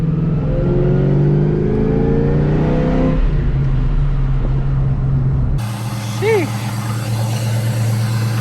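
A loud Ford SVT Cobra engine runs steadily nearby while warming to operating temperature, its pitch shifting as it revs, then settles into a rougher idle with a brief squeal near the end.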